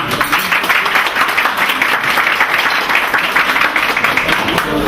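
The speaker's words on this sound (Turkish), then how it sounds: "Müdürümüze hoş geldiniz demek için hepinizden büyük bir alkış istiyoruz arkadaşlar" At a primary school gathering, the crowd gives a big round of applause to welcome the principal: thick, continuous clapping from many people, loud and close, ending abruptly.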